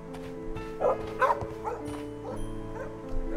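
A dog barks a few times in a Sherlock Holmes detective game, short yaps spread over a few seconds above a steady hum of background music, fairly soft.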